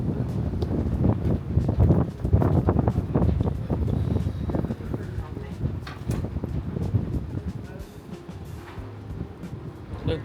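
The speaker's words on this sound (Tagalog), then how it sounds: "Ang lamig eh. Look, ang hangin." Steady gusting wind buffets the microphone on a cold morning outdoors in Taipei, Taiwan, a low rumbling roar that swells and eases throughout, with faint background activity.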